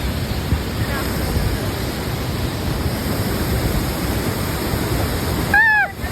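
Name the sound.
waterfall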